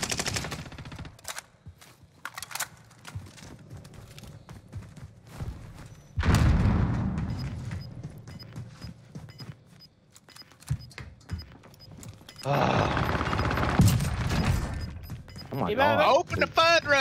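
Gunfire in a multiplayer shooter game: scattered single shots and short bursts, with two louder sustained volleys, heard over players talking.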